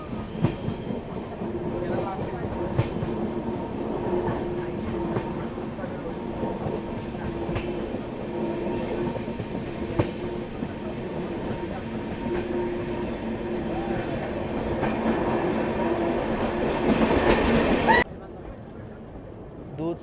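A passenger train on the Bengaluru to Goa route through the Dudhsagar stretch of the Western Ghats rumbles along the tracks with steady clickety-clack, then the sound cuts off sharply near the end.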